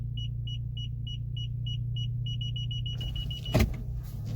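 A car parallel parking on an Ivorian street, its steady low engine rumble running throughout while a repeating electronic parking-sensor beep pulses, speeding up into a continuous tone, ending with a brief sharp bump.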